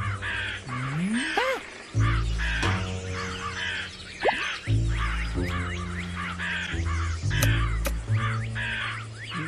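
A crow in the video game Ant Inventor caws harshly again and again in an irregular rhythm over a steady, low game soundtrack. No one speaks.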